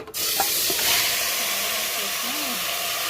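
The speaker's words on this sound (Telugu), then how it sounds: "ఆయిల్ వేసి హోల్గా గరం మసాలా స్పైసెస్ వేయాలి" Whole garam masala spices sizzle in hot oil for mutton biryani, a steady broadband hiss that holds loud and even for a few seconds after a brief start, close to the pan.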